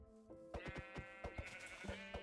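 Sheep bleating in the Minecraft video game, a quick run of repeated wavering bleats, close and clear, with no voices over it.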